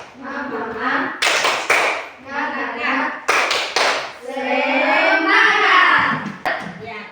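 Standing pupils in a classroom deliver a chanted spirit cheer with grouped claps, quick clapping bursts set between loud unison children's voices, ending in a held shout.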